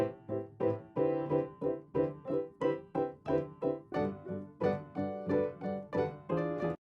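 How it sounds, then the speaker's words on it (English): Acoustic piano loop played with no effects in a small room, giving a steady rhythmic pattern of moderately quiet repeated chords with short decays, and no voices. "Just some nice acoustic piano in kind of like a small room setting."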